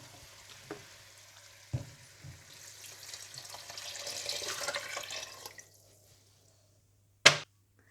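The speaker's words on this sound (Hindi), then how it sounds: "गाजरों और मटर को भी भूनने के बाद आप इसमें चावलों के हिसाब से पानी डाल दें।" Water poured into a pot of fried carrots and peas for pulao gives a rising sizzling, bubbling hiss that swells for a few seconds, then drops away, followed by a sharp clink near the end.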